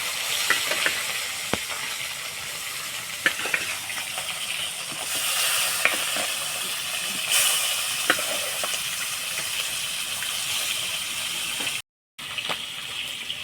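Steady frying sizzle from pieces of jackfruit and potato in a pan, continuous and close, with occasional clinks and stirring taps throughout and a brief cut near the end.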